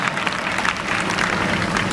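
A church congregation claps hands in praise of God, a dense, steady burst of many hands applauding together at close range.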